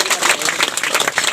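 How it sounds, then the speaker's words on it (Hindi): A crowd claps at a community gathering, with dense, steady applause for just over a second and no voices on top. "तो ताली बजाओ तो।"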